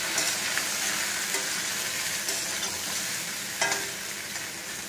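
Vegetables frying in a pan, among them pointed gourd, produce a dense continuous sizzle with a few soft stirring knocks, close and without voices.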